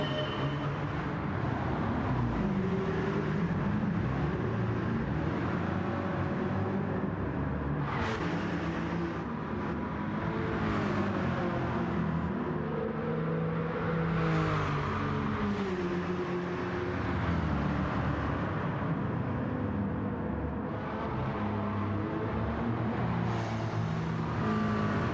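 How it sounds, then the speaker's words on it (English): A V8 race car engine in a video game roars continuously, its pitch rising and falling through repeated gear changes, steady and fairly loud without any talking. "we're just going to listen to this V8 a little bit"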